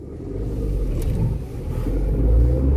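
A 2021 Tata Nexon XM petrol car pulls away in first gear with a little wheel spin, its engine a close, steady low rumble that builds gently over a few seconds.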